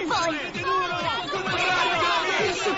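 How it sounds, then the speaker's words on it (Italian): Fans in an animated series cheer as a crowd, a steady mix of overlapping chanting and shouting voices with rhythmic rising calls, moderately loud and continuous throughout. "Non sentite queste voci? Loro stanno ancora facendo il tifo per voi."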